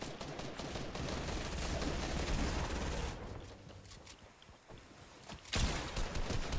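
Rapid bursts of gunfire from the video game Fortnite crackle in dense, continuous volleys, easing off for a moment before another loud burst; fairly faint overall, with no talk.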